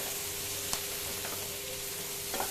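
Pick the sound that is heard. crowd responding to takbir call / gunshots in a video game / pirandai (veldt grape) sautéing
pirandai (veldt grape) sautéing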